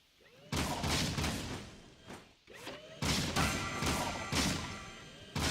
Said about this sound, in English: I'm just firing wildly now.